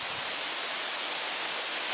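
A tiny trickling stream at the forest source of the Western Dvina river, heard as a steady, soft broadband rush and gurgle of water, continuous and fairly close, with no voices.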